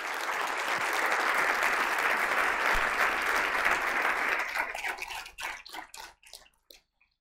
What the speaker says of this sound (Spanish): quiero un aplauso para los voluntarios